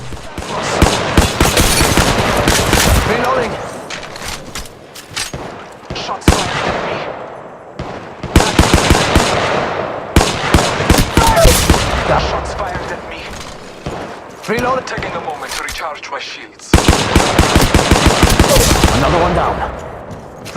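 Rapid bursts of G7 rifle fire from the Apex Legends Mobile shooter game, loud and close, coming in several dense clusters separated by brief pauses, with other game effects mixed in.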